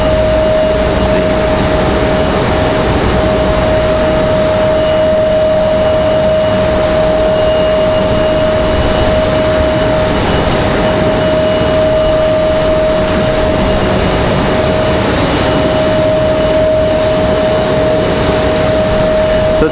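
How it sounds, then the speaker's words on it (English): A Frontier Airlines jet airliner approaches to land on runway 5 left at Raleigh-Durham International Airport, its engines a steady, loud broadband roar with a sustained tonal whine throughout, heard from a spotting location. "Might get that one lone Frontier to land here on 5 left"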